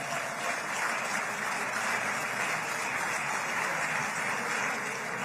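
Dense, steady crowd applause fills the hall during a presidential speech declaring the age of terror over, a continuous roar of many hands clapping at even loudness throughout, with no voices standing out.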